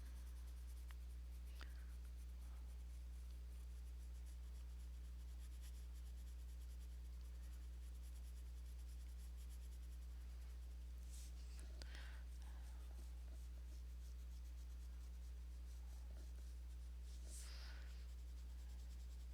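A pencil scratches softly across paper while being drawn with and turned to keep its point, faint intermittent strokes over a steady electrical hum with no talking.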